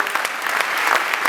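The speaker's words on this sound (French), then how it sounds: "Je voulais vous dire applaudir pour vous-même d'abord" A brief burst of audience applause rings out at a conference in Kinshasa, dense clapping from a crowd lasting only a moment.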